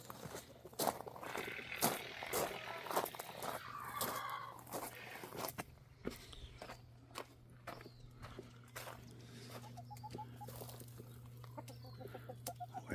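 Chickens cluck in a homestead run, with soft repeated calls near and far, scattered footsteps and rustling, and a steady low hum underneath.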